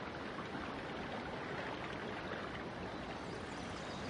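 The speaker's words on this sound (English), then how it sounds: "The Yellow River flows between mountains on both sides, surging from Shimen at upstream through the Longman Gorge at Yumenko." Yellow River surging between mountain walls through the Longmen Gorge, a steady, dense rush of water that holds constant and fairly faint, with no voices.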